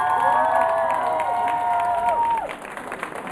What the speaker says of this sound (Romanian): Aplauze pentru Iana!